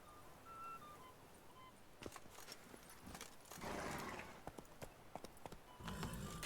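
Hooves of Roach, a horse in The Witcher 3, clip-clop in a steady walking rhythm, soft and fairly close, over a quiet ambient bed with faint melodic tones.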